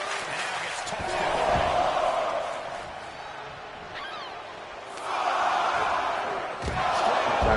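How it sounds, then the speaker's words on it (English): A wrestling arena crowd in WWE 2K24 roars and chants in a steady, swelling wash of many voices, rising louder in waves with a few thuds underneath. "And the crowd chanting,"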